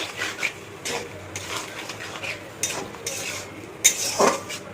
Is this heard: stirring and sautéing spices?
yes